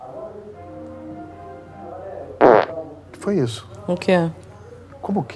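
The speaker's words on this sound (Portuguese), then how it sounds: "Você peidou" A short, loud, rasping fart bursts out in a Porta dos Fundos comedy sketch, set between stretches of Portuguese conversation, with people reacting just after it.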